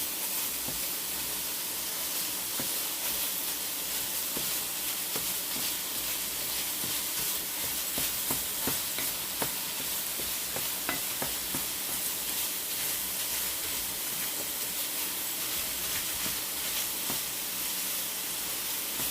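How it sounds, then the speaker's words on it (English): Sausage cooking in a pan sizzles in a steady hiss with scattered small pops and crackles throughout. The sound is close and continuous, with no one speaking. "our sausage is still cooking"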